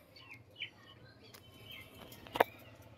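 Andhra pigeons stir inside a loft, with soft wing flaps and a sharp flutter burst near the end over a quiet room tone, plus faint chirps from nearby birds.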